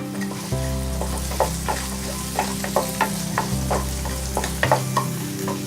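Onions with a pinch of salt frying in a pan, a continuous loud sizzle over a low steady hum, with frequent spatula scrapes and stirring knocks spread throughout.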